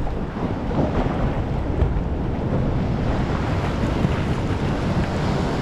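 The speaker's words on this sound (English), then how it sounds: "Wow, look at those waves." Big ocean waves breaking nearby, a continuous loud roaring wash of surf mixed with wind buffeting, no voices.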